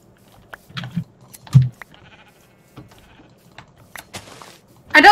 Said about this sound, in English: Oh my god, there's sheep everywhere.